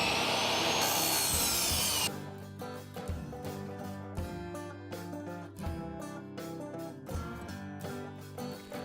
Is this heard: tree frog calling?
no